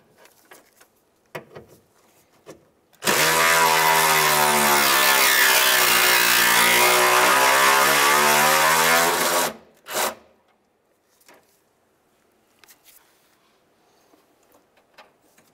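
Power tool spinning out two 5/16 bolts holding the heat sink for the ignition control module on a 1992-1996 Ford F-150: one loud, close, steady buzzing run of about six seconds, then a brief second burst amid quiet clicks.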